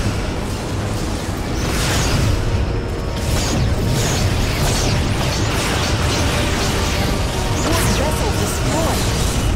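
Loud, dense blasts and crashing bursts of a vessel exploding in the video game Star Trek Legacy, repeated over a constant roar of in-game battle noise.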